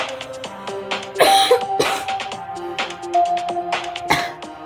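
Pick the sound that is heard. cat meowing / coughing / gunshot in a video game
coughing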